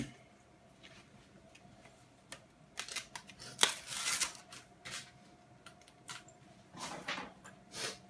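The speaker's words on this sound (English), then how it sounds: "Just rip that packet open, it's pretty easy." Plastic RAM packaging being torn and ripped open, a series of close crinkling, tearing rustles and sharp crackles in irregular bursts, fairly quiet overall.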